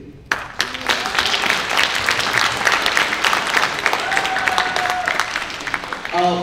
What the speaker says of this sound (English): You heard the cheering back there, right?